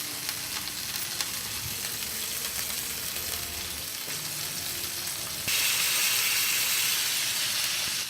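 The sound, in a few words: steak searing in a pan with thyme and butter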